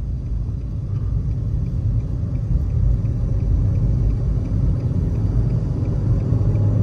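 Car engine running during a driving test: a loud, continuous low rumble that holds steady throughout, close and unbroken, with no talk heard.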